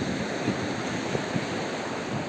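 Sea waves breaking along the shore at Somnath, a continuous rushing surf with wind buffeting the microphone, steady and close, with no voices.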